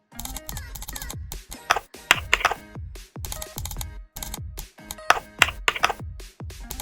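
Clicky computer keyboard typing while renaming image shapes in Excel, irregular bursts of close keystrokes with short pauses between words, fairly crisp and distinct.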